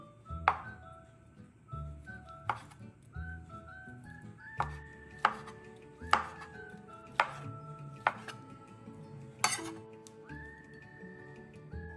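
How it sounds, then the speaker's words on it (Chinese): A knife slices a fish cake into thin strips on a board, about ten distinct, evenly spaced chopping knocks with faint ringing between them, close and clear. "鱼饼一个，切成细条状"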